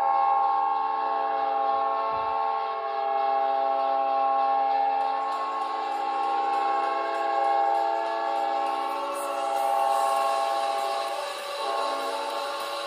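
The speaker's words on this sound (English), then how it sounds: "A deafening type of horn" The Winnipeg Jets NHL goal horn blares as a loud, sustained, deep multi-tone blast that holds throughout, with higher tones layering in later, standing alone without speech.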